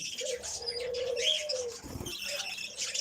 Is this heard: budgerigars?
yes